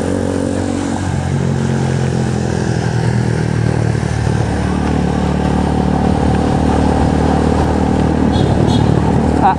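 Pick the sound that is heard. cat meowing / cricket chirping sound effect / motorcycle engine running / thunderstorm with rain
motorcycle engine running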